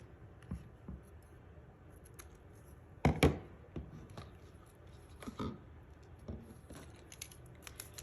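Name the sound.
scissors cutting ribbon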